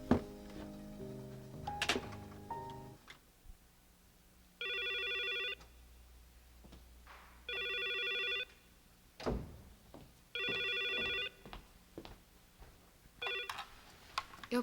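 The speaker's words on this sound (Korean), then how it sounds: "우선 전화부터 좀 쓰겠습니다." An old telephone in a 1987 Korean drama scene rings in four evenly spaced electronic bursts, preceded by handling knocks and dial clicks, with soft thumps between rings and no talking.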